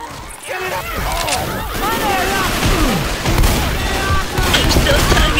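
Left 4 Dead gunfire rattles in dense, continuous bursts under heavy combat noise, with game voices and chatter layered on top.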